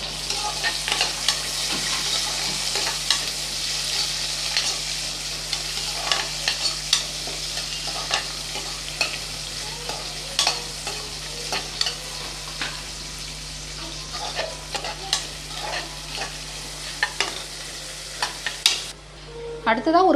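Sliced onions sauté in a pan for coconut milk rice, a steady close sizzle broken by repeated scraping stirs and clinks of the spatula throughout, with no talking.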